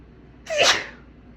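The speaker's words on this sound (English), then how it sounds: "I'm gonna sneeze." A single sharp sneeze, close and fairly loud, with a quick breathy intake just before it. Quiet room tone surrounds it.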